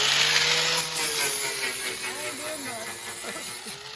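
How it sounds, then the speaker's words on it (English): Several people sanding a race car body at once, a steady broad hissing scrape with shifting strokes, close and continuous, with some background voices. "Got the whole gang over here sanding on this thing."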